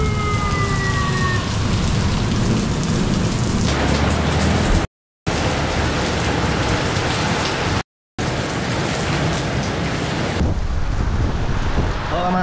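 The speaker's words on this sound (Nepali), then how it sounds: "कत्तो ठुलो पानी पर्दै" Heavy rain pours down in a loud, dense, steady roar that fills the whole stretch, broken by two brief cutouts.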